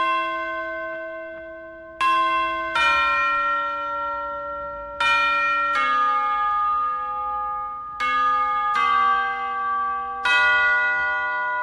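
Bells from the Incredibox bells mod in a video game ring out in a series of clear, resonant struck tones, roughly one every couple of seconds, each decaying slowly into the next.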